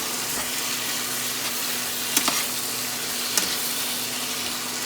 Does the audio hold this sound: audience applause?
no